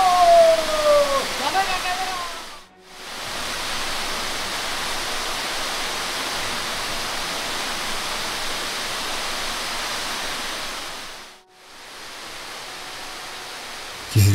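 Ring Waterfall at Tamhini Ghat roars in a steady, dense rush of falling water close by, briefly dipping twice before returning at full strength.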